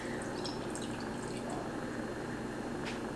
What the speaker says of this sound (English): Add about a cup of orange juice to your glass